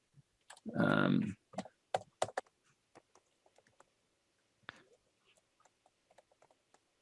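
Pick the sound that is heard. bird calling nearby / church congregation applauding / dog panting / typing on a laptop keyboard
typing on a laptop keyboard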